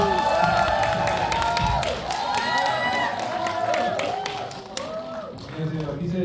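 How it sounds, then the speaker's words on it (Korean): Loud applause and cheering from a cinema audience as a film's director and cast take the stage, with clapping and scattered whoops continuing steadily throughout, mixed with voices. "입장할 때 큰 박수 부탁드리겠습니다"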